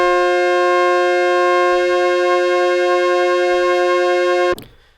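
A Yamaha DX7 synth holds a steady sustained tone with a subtle detuned chorus shimmer, loud and close, then cuts off abruptly with a short click near the end and no voices.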